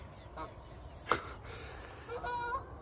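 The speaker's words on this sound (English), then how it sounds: "Fucking bird invasion." A flock of geese by a park river honks in scattered calls, a few distant and one sharper honk nearer, over a low outdoor background with no talking.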